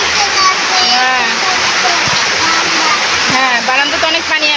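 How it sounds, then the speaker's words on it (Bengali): Floodwater pours and splashes onto a house veranda in a steady, close rush, while people talk over it. "বারান্দাতে অনেক পানি আসছে"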